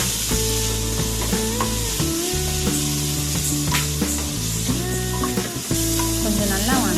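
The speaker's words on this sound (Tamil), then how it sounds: "தக்காளி வெங்காயம் நல்லா வணங்கணும்." Loud, close sizzling of tomato and onion frying in a pan, with a spatula stirring and scraping throughout.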